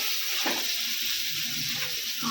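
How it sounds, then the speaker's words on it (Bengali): Onions frying in oil over a medium flame until golden brown, giving a continuous close sizzle with a few soft stirring scrapes and no talking. "পেঁয়াজ আস্তে আস্তে বেরেস্তা হয়"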